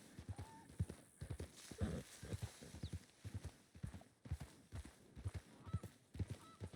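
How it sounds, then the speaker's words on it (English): Horse hooves clip-clop at a steady walking rhythm in Red Dead Redemption 2 (RedM), each step distinct and close, with a faint tonal sound now and then. "I call my horse and go check it out."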